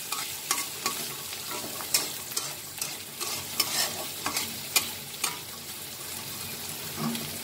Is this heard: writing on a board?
no